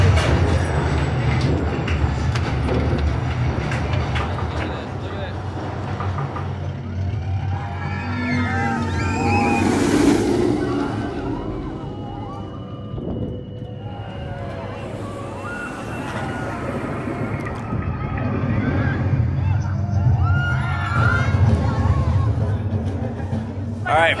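Kondaa roller coaster at Walibi Belgium roars along its track in a loud, sustained rumble that swells and fades as the train runs, with riders' voices and shouts mixed in throughout.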